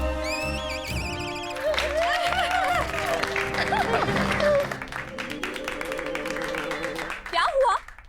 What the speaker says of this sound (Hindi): आप लोग तालियां क्यों बजा रहे हैं?